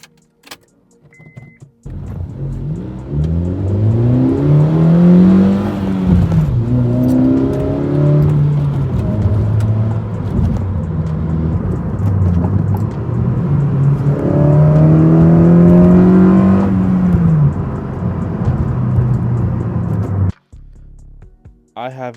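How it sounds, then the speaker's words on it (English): A Honda Fit GE8 fitted with an aftermarket intake revs close by, its engine note rising and falling in two long swells with a steady drone between them; a voice talks faintly underneath. "I have an intake I installed on my car, and it sounds amazing."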